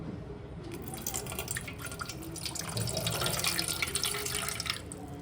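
Water poured off soaking powder in a container, a quiet trickling and splashing pour that swells slightly midway, with no talk.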